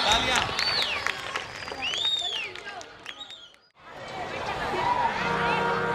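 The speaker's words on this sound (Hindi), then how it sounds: "तालियां तालियां" An audience at a staged Ramlila performance of Sita Swayamvar claps and murmurs, with bright whistling tones over the clapping, a short lull, then a fresh wave of clapping and crowd noise.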